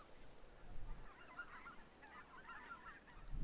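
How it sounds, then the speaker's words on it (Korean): Migratory birds, geese among them, calling at Junam reservoir, faint distant honking calls scattered over quiet outdoor background noise. "주남 저수지를 찾는 여러 철새들 중 선발대로 먼저 오곤 하는 대표적인 새입니다"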